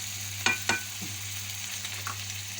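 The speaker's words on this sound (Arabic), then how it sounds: "التومه بتحمر اهي" Garlic fries gently in oil for molokhia, a soft steady sizzle with a couple of sharp pops early on, close and fairly quiet, with no talking.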